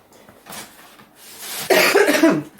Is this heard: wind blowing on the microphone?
no